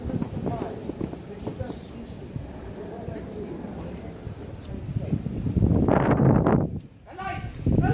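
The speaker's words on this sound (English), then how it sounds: "His horses go about." Horses' hooves clip-clop as a stage sound effect during a school production of Macbeth, rhythmic and moderately close, with a louder burst of noise near the end.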